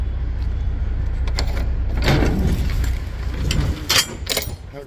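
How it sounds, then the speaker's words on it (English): A heavy door is pushed open with effort, giving scraping, clunking mechanical sounds and a few sharp knocks close to the microphone, with no talking. "That door didn't want to swing."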